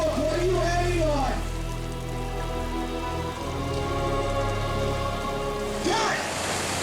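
Rain hisses and patters steadily on a film set under low rumbling machine noise, with tonal sounds sweeping at the start and near the end.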